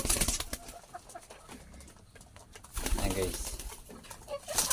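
Pet pigeons cooing in their coop, soft, low calls mixed with light rustling while someone talks over them.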